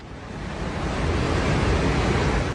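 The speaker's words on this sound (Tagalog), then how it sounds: "mula sa malayo, rinig na ang pagragasa ng tubig sa pagitan ng mga bundok" A steady, loud roar of flash-flood water rushing between mountains in Nepal fills the whole stretch, broad and unbroken, with no voices over it.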